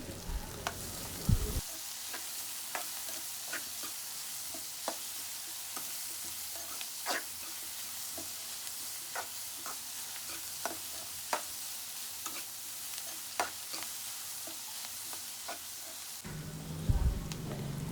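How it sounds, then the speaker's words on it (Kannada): Grated carrot added to peas fries in a pan with a low, even sizzle, punctuated by regular spoon scrapes and taps, quiet and close with no speech. "ತುರಿದಿರೋ ಅಂಥ ಕ್ಯಾರೆಟನ್ನು ಹಾಕೋಣ ಅದನ್ನು ಸ್ವಲ್ಪ ಫ್ರೈ ಮಾಡೋಣ"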